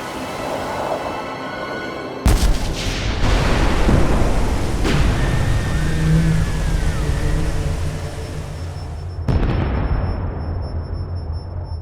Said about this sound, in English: In just 35 seconds, the torpedo met its mark.